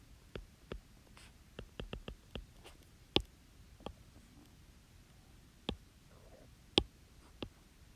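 Pen or marker drawing a number line, heard as sparse sharp ticks and taps: a quick cluster of strokes early, then isolated louder clicks spaced out over a quiet background.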